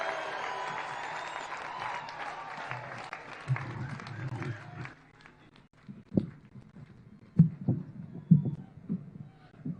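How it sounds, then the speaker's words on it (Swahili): A crowd applauds and women ululate to welcome President Ruto at a gathering in Meru. Dense clapping and cheering fill the first half, then thin out into scattered claps and thumps. "makofi na ngemi ya akina mama"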